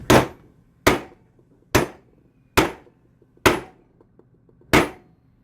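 Hand stamp struck on a poured silver token, six sharp metallic blows spaced roughly a second apart, each loud and close with a short ringing decay, faint clinks between them.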